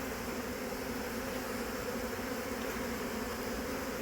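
Honeybees swarming inside an Airbnb bathroom make a steady, droning buzz, fairly faint and continuous with a constant hum and no voices.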